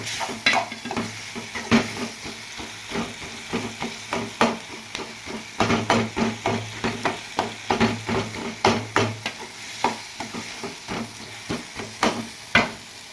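Tomatoes and onions frying in a pan for tomato chutney, with a soft sizzle under repeated close scraping stirs of a spoon, rhythmic strokes every half second or so, no talking.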